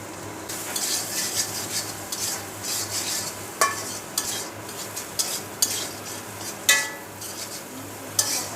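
Chicken curry ingredients with turmeric and salt fry in a pan under a steady soft sizzle, while a spoon scrapes and stirs in uneven strokes, with a few sharper clinks against the metal, close and without talking.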